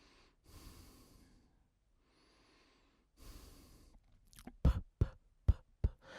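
Breathing picked up close by a wired stereo gaming headset microphone: two long, soft breaths with a pause between them, then a run of sharp snorting exhales and puffs, fairly quiet and alone with no talk.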